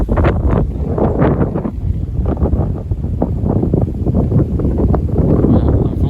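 Loud rushing wind buffeting the microphone in repeated gusts, with a voice talking underneath the roar.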